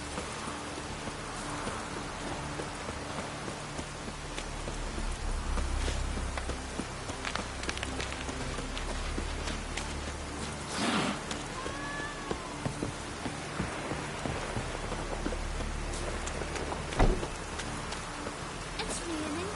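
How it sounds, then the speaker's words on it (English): Rain falls steadily outdoors in a soft, constant patter on surfaces, with scattered drops, footsteps and a voice in the background. "It's raining."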